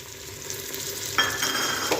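Chopped tomatoes go into a pan of golden-brown frying onions for aloo matar, producing a steady sizzle with stirring scrapes and a louder burst of frying as they hit the hot oil.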